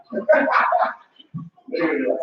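A dog barks indoors in two loud, close bursts separated by a brief pause, with no voices heard over the barking.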